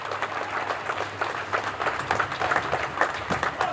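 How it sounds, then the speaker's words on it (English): Audience applause at an outdoor Cape Verdean flag raising marking Cabo Verde's independence anniversary in New Bedford: steady crowd clapping throughout, fairly close and dense, with a low hum underneath. "Yes, applaud that."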